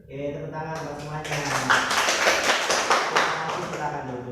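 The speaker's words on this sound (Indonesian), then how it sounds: "tepuk tangan buat semuanya" Classroom of students applauding after singing a patriotic song together, dense steady clapping building from a sung ending and sustained for several seconds, fairly close.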